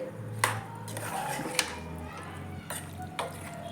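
A spoon stirs tuvar dana curry with masala in a pan, sharp metallic scrapes and clinks against the rim under a low, steady sizzle.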